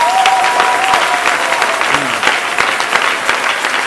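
A church congregation claps loudly and steadily in praise during a prayer service, a dense, continuous wash of applause that fills the whole stretch, with a voice faintly present underneath.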